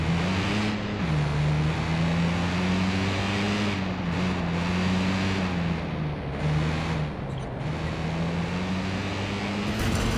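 A car engine in Watch Dogs 2 roars under hard acceleration through the Castro in San Francisco during a race, a loud steady drone that drops briefly between gear shifts and climbs again, with no talk.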